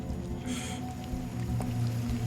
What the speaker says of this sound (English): Is this actually the sound LIDAR devices make?